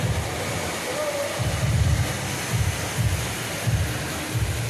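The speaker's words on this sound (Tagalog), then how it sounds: "Grabe ang ulan" Heavy rain falls as a steady broadband wash, with low rumbling bursts pulsing through it at intervals.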